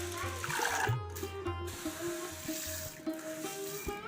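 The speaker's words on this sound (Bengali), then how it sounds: "আগে আমি ডালটা ধুয়ে দেবো।" Masoor and chana dal being washed in water give soft, low swishing and trickling sounds, steady and quiet, heard close by in a kitchen.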